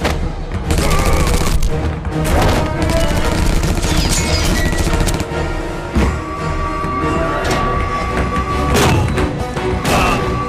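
Loud, sustained gunfire from the 2009 Wolfenstein video game, rapid bursts and heavy impacts crashing almost continuously with a brief lull, alone without talk.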